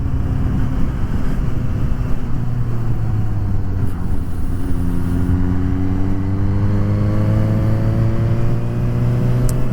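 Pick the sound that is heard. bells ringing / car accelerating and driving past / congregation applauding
car accelerating and driving past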